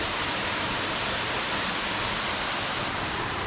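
A waterfall on the Holland Creek Trail in Ladysmith, BC roars steadily from a moderate distance, a dense, unbroken rush of falling water with no other sounds over it.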